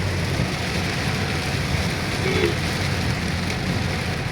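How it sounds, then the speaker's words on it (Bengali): Heavy rain pours steadily on a Dhaka city street in a dense, unbroken hiss, loud and close, with no voices over it. "এত পরিমাণ বৃষ্টি, যা বলে বোঝানো যাবে না আপনাদের"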